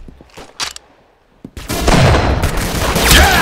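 Gunfire in the video game Arsenal, including a Webley revolver used for sniping; a few faint sharp shots early, then a dense loud burst of rapid gunfire filling the second half.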